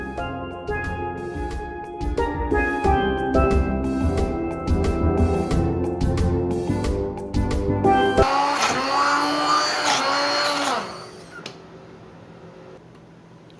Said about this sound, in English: I'm going to turn off the stove and I'm going to use my hand blender and blend this up.